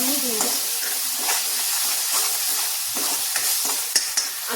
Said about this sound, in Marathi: त्याला तेल सुटेपर्यंत आपण फ्राय करून घेऊ.